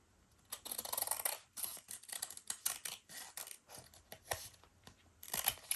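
Scissors snipping through a glued paper journal card made from old book pages and paint cards, a series of close, crisp irregular cuts with brief pauses, no voices.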